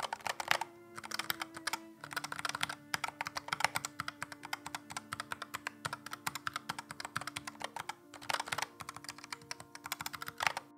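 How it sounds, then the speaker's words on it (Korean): Hitbox arcade controller buttons with Get On Low Profile Red switches clacking in rapid, dense bursts, loud and close, with brief pauses between flurries of presses. "제 생각으로는 버튼 소리 좀큰 편이에요"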